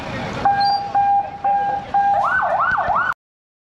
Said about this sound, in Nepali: कत्रो ठुलो हुँदो रहेछ हर्न पनि